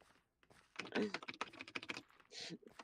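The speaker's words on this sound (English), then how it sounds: "you are smacking that keyboard around" Loud, rapid typing on a computer keyboard, with sharp, hard-struck clacks and heavy spacebar hits in quick bursts, close to the microphone with a faint voice nearby.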